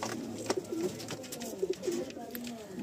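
Pigeons in a loft give soft, repeated throaty coos in two clear bursts, close by and quiet.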